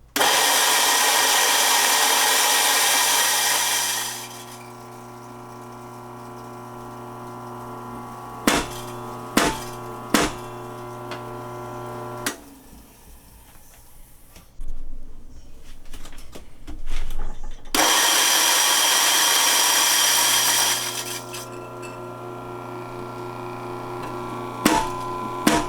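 A Ditting 804 Lab Sweet coffee grinder loudly whirs through a burst of grinding into a portafilter, drops to a lower motor hum with a few sharp taps and knocks, then roars into a second grinding burst.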